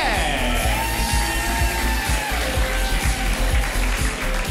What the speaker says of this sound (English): Make a whole bunch of noise for Dynamite PDX.